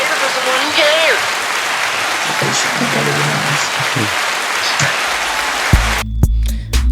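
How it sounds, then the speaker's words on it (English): A burst of crowd applause played as a sound effect on a podcast, a dense clapping wash that cuts off abruptly near the end with brief knocks and voices. "What happened if you hit the applause right now?"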